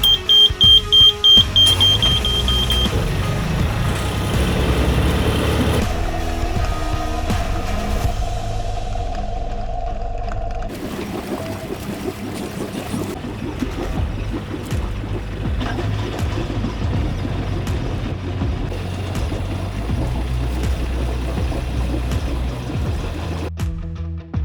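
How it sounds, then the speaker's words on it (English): A yacht's inboard engine is started and run in forward and reverse, giving a steady low rumble and drone that holds throughout, with a brief beeping alarm at the start and shifts in tone as the gear changes. "let's start the engine, run it forward and reverse,"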